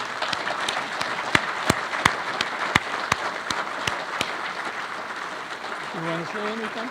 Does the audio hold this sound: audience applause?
yes